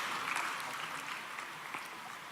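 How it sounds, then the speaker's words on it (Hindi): Applause at an award ceremony honouring selected UPSC candidates, a steady, fairly faint wash of clapping from a crowd heard at a distance. "श्री एकांत जैन जी के लिए जोरदार तालियां स्वागत करेंगे उनका भी"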